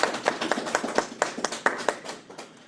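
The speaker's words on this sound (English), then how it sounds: "a round of applause first" A short round of applause from a small group at an astronomy talk: scattered, uneven hand claps from a few people that thin out and fade toward the end.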